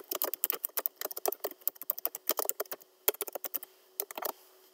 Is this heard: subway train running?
no